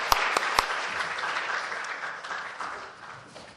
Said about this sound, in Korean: 더 크게 뜨거운 박수 해주시기 바랍니다